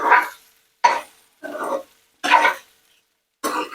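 Steamed rice flour snack pieces are tossed and mixed so every side gets coated. Five separate loud, close swishing bursts come at a steady pace, with short silences between them.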